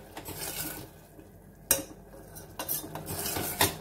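A spoon scrapes and clinks against a pot while moong dal kheer with jaggery is stirred, in a few sharp knocks and softer scraping strokes, close by with no voices.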